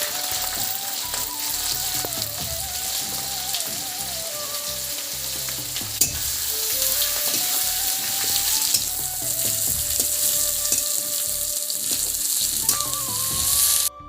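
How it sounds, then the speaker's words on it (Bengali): Onions fry in hot oil for a thin mutton curry, sizzling loudly and continuously at close range, with some intermittent stirring clatter and a faint tonal whine in the background. "এখানে দেখো তেলটা হয়ে গেছে গরম আর তার মধ্যে দিয়ে দিতে হবে পেঁয়াজ"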